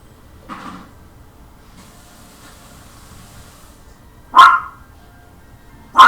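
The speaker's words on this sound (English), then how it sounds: "And then he'll start barking" A dog gives a single faint yip early on, then two sharp, loud barks close by a few seconds apart over a quiet room.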